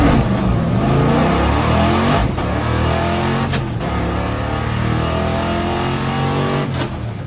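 A Plymouth 'Cuda roars down a racetrack under hard acceleration, its loud engine droning continuously close by, with brief dips as it shifts gears.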